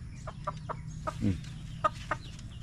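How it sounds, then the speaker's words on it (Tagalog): Chickens cluck in short, spaced bursts, a few soft calls scattered over a quiet low hum, moderately close. "Ito yung mga manok na dito."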